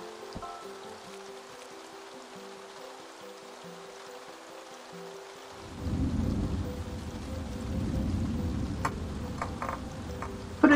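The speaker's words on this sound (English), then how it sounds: "I'm scared of the lightning." Rain and thunder from a storm in the video game Staxel: a few seconds of quiet, then a sudden loud rumbling swell of heavy rain and thunder that carries on steadily, with a sharp crack at the very end.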